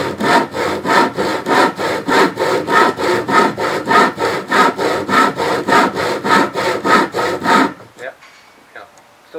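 A restored vintage crosscut hand saw cuts wood in a fast, steady rhythm of about two dozen loud rasping strokes up close, ending abruptly after roughly eight seconds in near silence.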